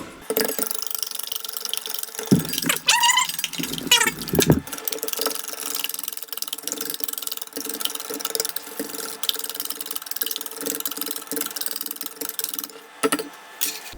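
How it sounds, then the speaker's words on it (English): Eggs whisked in a bowl for a corned beef and bacon dinner, a steady close rattling of the whisk running through the clip with a few brief louder knocks. "I'm gonna whisk this up"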